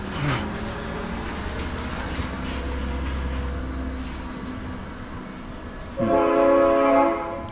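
A train rumbles steadily past close by, and a loud, sustained horn blast sounds near the end.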